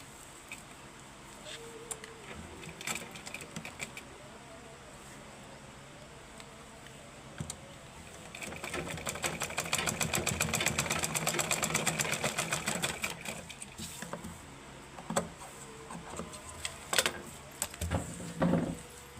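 A sewing machine stitches a handle onto a handbag sewn from designer embroidered fabric, running in a fast buzzing burst mid-clip between quieter handling clatter and short stops.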